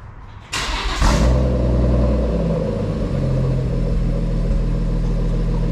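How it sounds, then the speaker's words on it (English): BMW M140i with a screamer pipe exhaust and big turbo fires up with a sharp burst, then settles into a loud, deep, rumbling idle with slight revs, close and unaccompanied by speech. "because it's got a screamer pipe, it'll make a big difference for sure"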